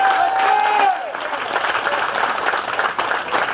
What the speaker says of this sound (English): just give a big round of applause for all of the crews that work their